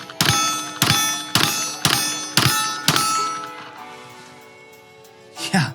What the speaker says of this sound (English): Let's get a few more rounds downrange to see what this is like.